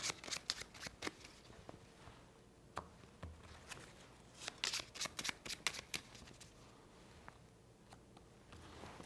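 Game cards for the board game Peacemakers: Horrors of War are shuffled and laid out on a table in close, crisp riffles and flicks, with sharp bursts separated by brief pauses and soft slides of cards being placed. No one speaks.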